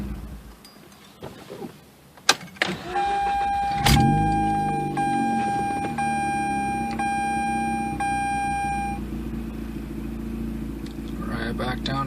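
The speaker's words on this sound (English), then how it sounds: "just want to do some hot starts here and see how it does" A Mazda RX-8 rotary engine, fitted with new coils and an adjusted throttle body, is hot-started: a brief crank fires into a steady idle while a tonal chime sounds for several seconds, all close up.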